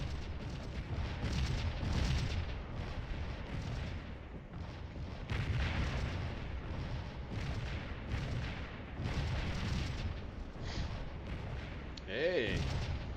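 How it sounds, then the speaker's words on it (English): Cannon fire trades back and forth in an artillery duel in Scourge of War, with repeated distant booms and rumbling bursts every couple of seconds, some faint background talk, and a sharp tonal sound near the end. "Artillery duel."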